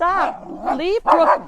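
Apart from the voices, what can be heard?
dog barking on a farm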